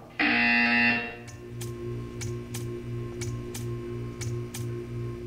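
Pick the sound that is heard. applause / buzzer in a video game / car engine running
buzzer in a video game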